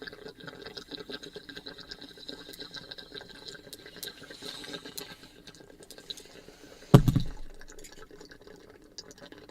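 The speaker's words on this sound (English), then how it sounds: "I got a bong in my hand, dude. I'm gonna smoke it, bro." Low, gurgling water bubbles in a burst of a second or so, near and fairly loud, then fade over soft background hiss.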